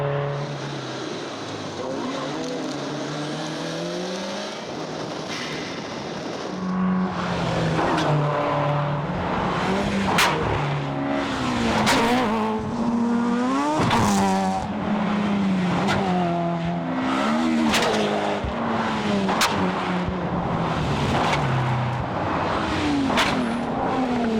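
Rally cars race along a road at the 2007 Targa NZ rally near Kaimata, a loud, close engine roar that climbs and drops through repeated gear changes, with sharp pops and crackles as a car powers past.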